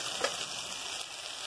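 Okra frying with bacon in a pan gives a steady, close sizzle and crackle of hot fat throughout, with a brief clatter of stirring near the start.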